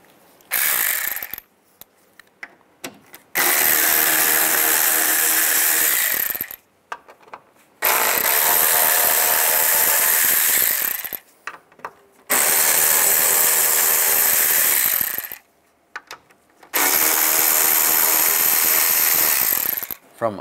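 A T20 socket ratchet spins out screws on a 2010-2017 Chevrolet Equinox front bumper panel, four loud buzzing runs of several seconds each, separated by short gaps, close to the listener.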